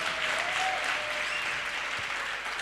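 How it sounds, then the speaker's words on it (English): An audience claps together in a steady burst of applause at a work readiness training session, dense and sustained for a few seconds with no voices over it. "Can you give yourself a round of applause?"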